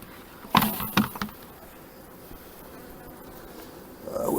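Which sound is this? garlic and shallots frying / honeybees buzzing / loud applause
honeybees buzzing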